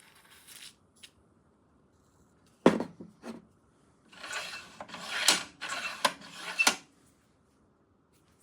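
Side table extensions on a Rutlands cordless mitre saw squeaking and rasping as they slide, in several short bursts and a longer scraping run, close and dry.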